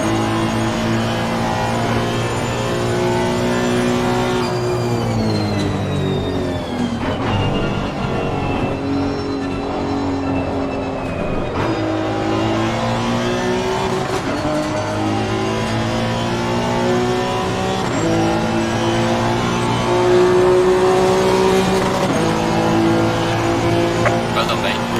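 A race car engine in the Assetto Corsa Competizione racing game revs up and down through gear changes, loud and continuous, with rising and falling pitch as the car brakes and accelerates.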